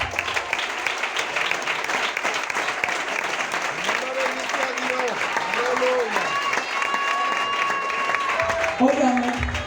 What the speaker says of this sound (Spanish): dile aplauso al Rey